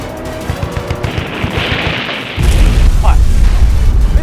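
Gunfire rattles in quick bursts before a missile launches at an aircraft in a Chinese military TV drama, breaking into a sudden loud, sustained roar.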